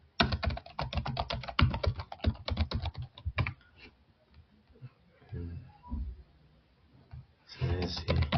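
Quick bursts of clicky computer keyboard typing, close and crisp, pausing briefly in the middle before resuming at the end, with faint background sounds during the lull.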